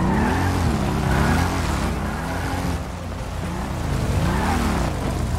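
A motorcycle engine in a GTA roleplay game revs loudly, its pitch rising and falling in repeated sweeps, with no voices over it.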